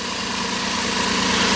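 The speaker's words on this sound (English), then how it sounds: "At the business end of this T100, we find here it's 3-liter V6," A 1994 Toyota T100 DX pickup's 3-liter V6 with single overhead cams and electronic fuel injection idles steadily, a smooth, even mid-low hum and light vibration heard close and alone.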